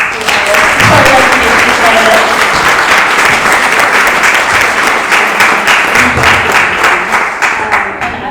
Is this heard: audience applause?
yes